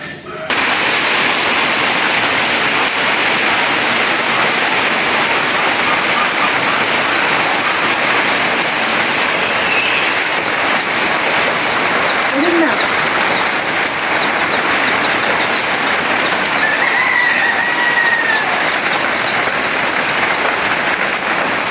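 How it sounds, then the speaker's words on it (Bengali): Heavy rain pours down steadily and loudly, a dense unbroken hiss lasting the whole stretch, with no clear speech above it. "বৃষ্টিও চলে আইছে"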